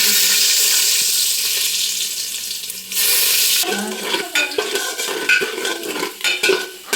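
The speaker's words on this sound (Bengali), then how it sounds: "রসুনগুলো ভাজা ভাজা হয়ে গেছে" Garlic fries in a home-kitchen pan for egg chowmein: a bright, loud sizzle hisses at first, then gives way to scattered clinks and scrapes of stirring against the metal.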